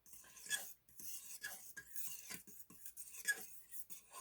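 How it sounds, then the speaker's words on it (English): A spoon stirs a thickening cherry mixture in a pan for canning cheesecake, giving quiet intermittent scraping and light clinks up close. "So you're just going to stir this around just a couple of minutes."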